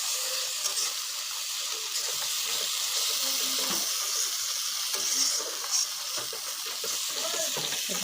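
Spices sizzle and hiss steadily in hot oil as turmeric, chili powder and ginger paste are fried for a cabbage dish, a continuous close frying sound with no talking.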